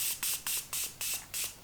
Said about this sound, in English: I have the Morphe Continuous Setting Spray.